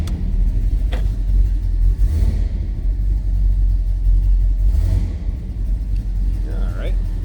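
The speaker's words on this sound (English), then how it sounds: "400 is just a little bit cold-blooded. We'll let it warm up." A numbers-matching 1970 Pontiac GTO with its 400 cubic inch, 350 horsepower V8 idles cold while warming up, a steady deep rumble that holds evenly throughout, with someone talking over it.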